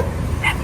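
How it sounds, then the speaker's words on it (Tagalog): A dog barks once briefly, mid-range and fairly close, amid several dogs kept by an elderly woman, over a steady low background hum. "Ang dami mong aso."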